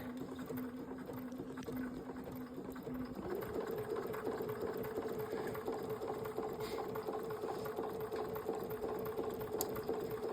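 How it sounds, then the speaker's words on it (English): Sewing machine stitching paraglider lines, a steady continuous whirring hum that rises slightly in pitch and speed partway through, running alone without talk. "I'll slow down my stitching when that time comes"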